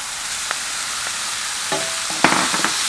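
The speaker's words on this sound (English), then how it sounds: "And just quick fry them." Prawns quick-frying in a hot pan, with a constant sizzle and a few clinks and scrapes of stirring near the end, no talking.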